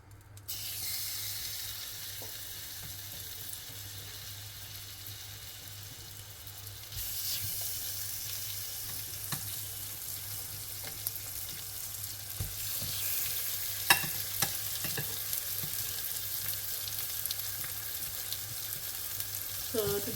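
Hot oil sizzles steadily in a pan being readied for lamb chops, a continuous close frying hiss that brightens after a few seconds, with a few faint clinks and no talk.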